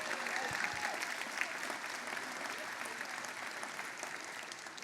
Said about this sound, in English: we need to give a great round of applause to the staff of our YMCA